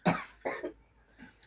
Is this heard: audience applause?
no